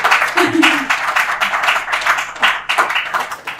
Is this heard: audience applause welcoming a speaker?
yes